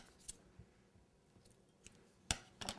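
Small scissors snip the heads off store-bought flower stamens for cake decorating, giving a few faint, sharp clicks, with the clearest cuts near the end, in a quiet room.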